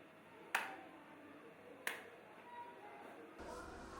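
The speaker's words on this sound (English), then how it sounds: "Try to wake the baby by clapping" Two sharp single hand claps, spaced about a second apart, ring out close by in an otherwise quiet room, clapping to try to wake a drowsy newborn baby.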